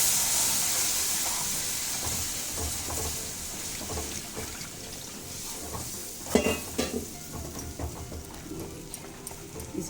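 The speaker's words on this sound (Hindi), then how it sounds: "अब इसमें मैं पानी डालूंगी" Water is poured into roasted wheat flour in a pan while making halwa, giving a loud initial hiss and sizzle that settles into steady bubbling, with scraping stirring strokes close by.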